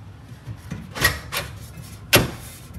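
An Aria Vent drywall air return grille slides into a drywall opening with a few short scraping and rubbing sounds. One sharper scrape comes near the end. The sounds are close and fairly quiet, and no one speaks.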